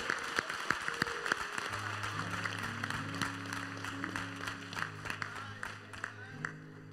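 Church congregation applauding for Pastor Turner at a pastoral anniversary celebration, with a faint, diffuse patter of clapping under sustained organ chords and a voice at the start.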